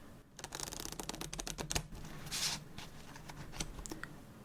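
Playing cards are shuffled for a solitaire game in a quiet, close setting, a rapid run of crisp riffling clicks and flutters followed by softer taps and settling snaps.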